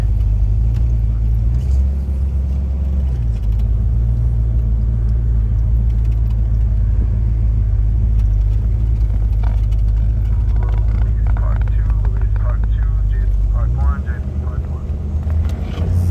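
White 1966 Ford Mustang GT convertible tribute running through the gears, a loud, continuous low engine rumble with pitch drops at gear changes near 2 and 14 seconds.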